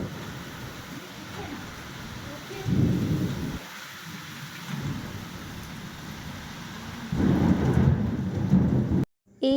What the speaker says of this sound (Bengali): সাংঘাতিক বৃষ্টি হচ্ছে, বাপরে।